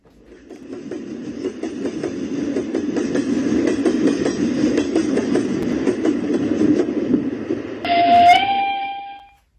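A small Hornby model train locomotive with a TXS sound decoder, controlled by Bluetooth, chugs and clicks steadily along the rails for several seconds, then gives a short, shrill whistle before stopping.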